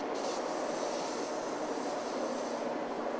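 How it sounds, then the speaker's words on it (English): Compressed air blasts steadily over a wheel that has just been degreased in a refurbishment spraybooth, clearing off dust and water. The hiss is loud, continuous and close, with no pauses and no voices. "Blow off any remaining dust and water."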